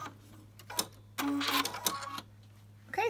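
A serger stitches a hem in the round on a pair of shorts in short, separate bursts of rapid mechanical whirring over a low steady hum, with a few clicks between runs.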